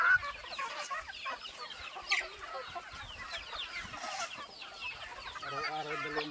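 Many native chickens cluck and chatter on a mountain farm, with overlapping calls, a few sharper squawks, and faint voices now and then in the background.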